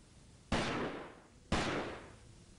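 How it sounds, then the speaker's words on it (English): Two sharp, booming gunshots from the video game Delta Force 2, spaced about a second apart, each with a long fading echo, heard alone without speech. "Somebody's still shooting."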